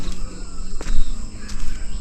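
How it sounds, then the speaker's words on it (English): Faint birds call now and then over a steady outdoor ambience, a few brief bursts scattered across the stretch, with no one talking. "The chirping of the birds you can hear."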